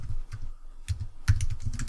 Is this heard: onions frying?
no